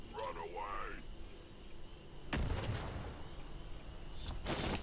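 A grenade explodes in Fallout 76, a loud close boom with a rumbling tail, followed by a second blast a few seconds later, after a brief stretch of game sound.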